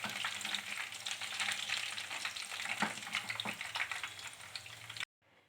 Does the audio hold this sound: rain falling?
no